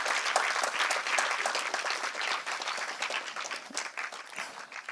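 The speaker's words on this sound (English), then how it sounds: "give him a big round of applause to Dr. Venkatachalam" An audience of students at a Chennai institution applauds a guest speaker, a steady wash of many hands clapping that holds loud throughout and tapers slightly near the end, with no talking over it.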